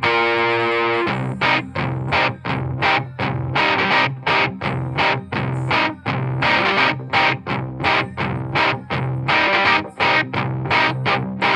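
An overdriven Gibson 335 on the neck pickup plays a solo part, a loud, choppy stream of distorted notes in a steady rhythmic pattern, alone with no talking.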